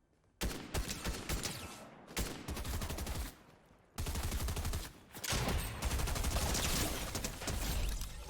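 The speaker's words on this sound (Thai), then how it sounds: "โอเคมีคนยิงผม" Gunfire during a Fortnite Chapter 3 Season 2 match, with several dense bursts of rapid automatic fire broken by short pauses, loud and close, and no one talking over it.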